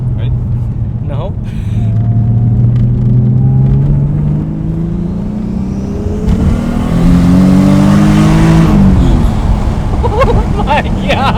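Toyota Supra engine revving with its turbo, a loud rising and falling motor tone that climbs in pitch through several surges inside the car, with excited voices talking over it.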